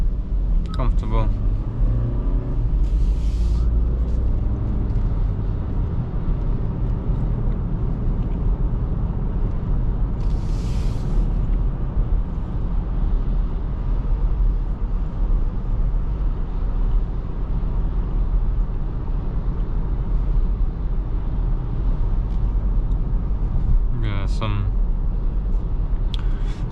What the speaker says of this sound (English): The cars are driving faster, so it's more wind noise, more tire noise from the other cars and from this car.